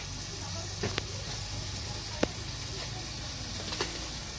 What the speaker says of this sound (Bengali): আমি মশলাটাকে ভালোভাবে কষিয়ে নেব।